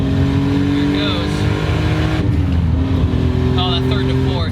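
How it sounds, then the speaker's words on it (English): A boosted Toyota MK3 Supra 7M engine pulls hard with climbing harmonic tones, broken by a sharp hissing blow-off valve burst midway, with engine drone throughout and voices in the cabin. "And you get a nice blow off valve, so that's a plus."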